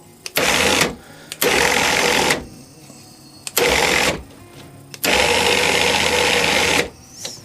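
A WARN 2000 winch motor runs in loud whirring bursts, starting and stopping abruptly four times with short quiet gaps and faint clicks between runs, close by.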